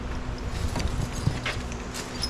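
Hooves of a grey Percheron draft horse team clip-clop in a steady walking rhythm on firm ground, moderately close and even in loudness, with no voices over them.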